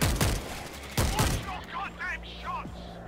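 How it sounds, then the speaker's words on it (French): Turret and mortar fire in the video game World War Z: loud booming shots, one burst near the start and another about a second later, then quieter game noise with scattered brief chirps. "Non, c'est une tourelle et un mortier. Ah oui, ça fait tchoum."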